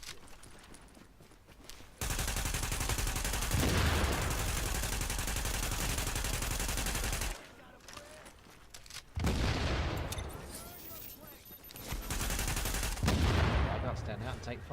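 Gunfire in a Tom Clancy's Wildlands firefight, loud rapid bursts of automatic fire in several stretches separated by brief lulls, with game effects and voices mixed in.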